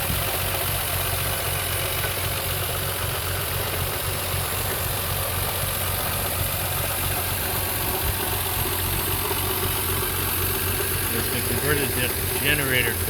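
A stock flathead six-cylinder engine in a 1940 Nash Lafayette idles steadily, with a continuous low rumble and a faint rhythmic knock, running unbroken throughout the clip.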